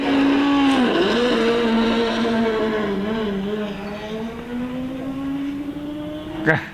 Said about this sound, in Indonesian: Karena suaranya khas ya, mesin rotari.